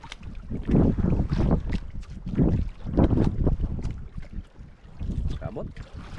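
Strong wind buffets a boat out on open water, a loud, continuous gusting roar with surging low rumble that rises and falls throughout, with voices faintly mixed in.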